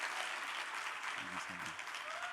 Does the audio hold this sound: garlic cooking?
no